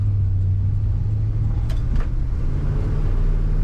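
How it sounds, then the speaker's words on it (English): Steady, loud rumble of a 1971 Chevrolet C10 pickup engine running smoothly at idle, close by and constant throughout, with no voices over it. "This is a very smooth running pickup."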